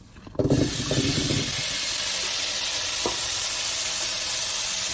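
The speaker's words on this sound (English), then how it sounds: "Add on a little bit of oil. And go ahead and put the smart bite potatoes." Potatoes hit hot oil in a pan used for New York strip steak, a loud steady sizzle starting abruptly after a brief clatter and holding constant, close up, with no talking.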